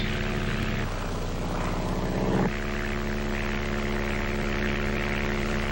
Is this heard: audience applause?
no